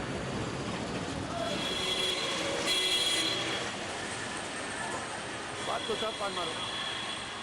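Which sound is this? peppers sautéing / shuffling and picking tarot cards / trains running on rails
trains running on rails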